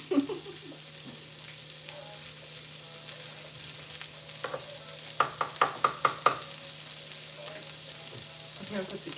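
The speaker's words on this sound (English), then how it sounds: "I'm gonna put the camera close so they can hear the sizzle." Vegetables for a shepherd's pie sizzle in a pan, heard up close as a continuous fine crackle under a low hum, with a run of sharp stirring clacks in the middle.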